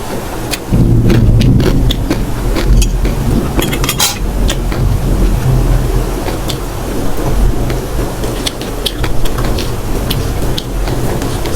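Steady rain pours down with broad rumbling thunder, loud and continuous throughout, with occasional sharp clinks like dishes or utensils close by during outdoor cooking.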